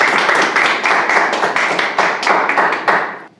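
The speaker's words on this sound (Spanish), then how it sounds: "vamos a darle un aplauso a Dios" A church congregation claps together in a steady, rhythmic beat of sharp, closely spaced hand claps that stay dense and even throughout, with no voices over it.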